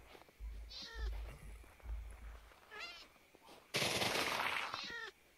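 Minecraft cat meowing in a hardcore survival game, several rising in-game meows spaced through the clip, with low rumbling game sounds and a loud burst of noise near the end.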